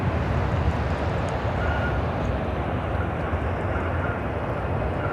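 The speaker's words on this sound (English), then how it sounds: "This is United Express, operated by SkyWest, 5407, coming in from Charlottesville on the E175." A United Express SkyWest Embraer E175 jet arriving at Chicago O'Hare makes a steady, broad engine roar throughout, fairly loud and unbroken, with no voices.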